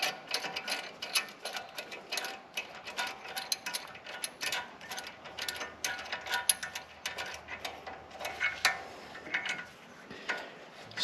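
G-clamp screw being tightened to compress the brake caliper pistons of a Toyota Hilux front brake, producing dense, rapid metallic ticking and ratcheting clicks that continue steadily at close range throughout.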